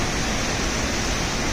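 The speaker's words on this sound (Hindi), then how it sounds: "गजब का झरना, गजब का झरना।" The Sajla waterfall rushes in a dense, steady roar of falling water, close and loud, with no talk over it.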